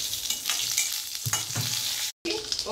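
Mustard seeds, urad dal, cumin and dried red chillies fry in hot oil for a Malabar spinach curry, a steady close sizzle with spoon stirring and scraping and a brief dropout before the crackle resumes.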